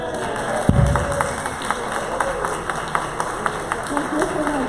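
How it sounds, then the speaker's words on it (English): Audience applause at a live-streamed event: a spread of scattered, fairly faint claps running for several seconds, with one sharp thump near the start and a voice talking over it. "Let's all give him a loud round of applause."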